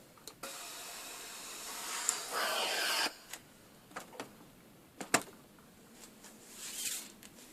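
A steam iron pressing fabric seams flat on a lining: a steady burst of hissing steam for a few seconds, followed by soft scattered thumps and rubs of the iron against the cloth, close and quiet.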